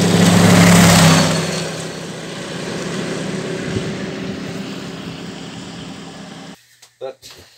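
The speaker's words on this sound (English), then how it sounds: "Just lucky that I had access to a bombardier in these slippery conditions. Gonna open right up." A 1956 wide gauge Bombardier snow vehicle engine roars loudly at first and then settles into a steady running drone, cutting off near the end with a few short knocks.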